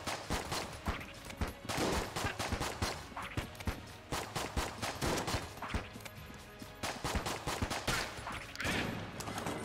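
Rapid, dense gunfire from the video game Enter the Gungeon, a continuous barrage of overlapping shots and impacts at steady loudness through the whole stretch, with no talking.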